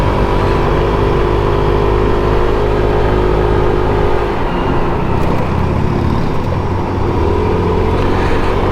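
A SYM 125cc motorcycle engine drones loudly and steadily as it accelerates on the road to overtake, with heavy wind rush and a slight dip in pitch partway through.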